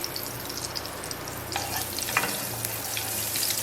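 Butter and olive oil sizzle steadily in a hot pan while a utensil stirs them around, a continuous close frying hiss with faint scraping through it.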